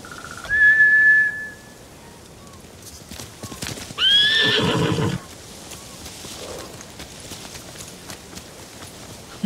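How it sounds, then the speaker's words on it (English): Two loud horse whinnies ring out in the video game Ghost of Tsushima, separated by a few seconds, with soft hoofbeats and rustling between them. "Bastards scared off the horses."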